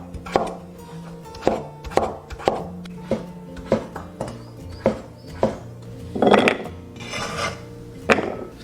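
A knife chops peeled, seeded pumpkin into small dice on a cutting board, with a steady series of crisp, close thuds repeating about once a second.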